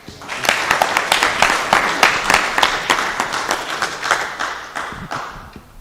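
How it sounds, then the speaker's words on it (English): Audience at a university consultative forum on higher education loans clapping together, a dense burst of rhythmic applause from a seated crowd, loud and sustained for several seconds. "Can you give me a clap?"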